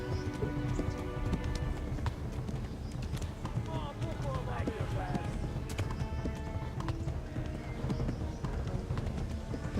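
Rapid, rhythmic hoofbeats of a galloping horse in the video game Kingdom Come: Deliverance, fairly faint, mixed with talk and other game noise.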